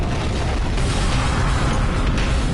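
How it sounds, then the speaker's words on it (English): A video game explosion effect in Danganronpa 2, a loud, dense, sustained rumbling boom that fills the whole stretch without letup and with no talk. "An explosion of darkness overtook me and I was unable to see anything."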